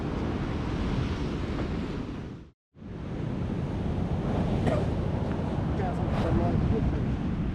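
Sea waves break on the shore at high tide at South Withernsea, a steady, close, broadband surf roar mixed with wind buffeting on the microphone, with a brief dropout to silence partway through.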